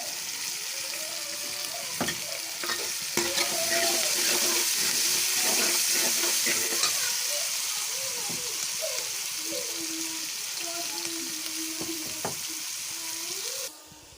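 Tomatoes and green chillies fry with mutton, a broad steady sizzle and hiss running throughout with scattered clinks and scrapes of stirring, close and fairly loud, ending abruptly.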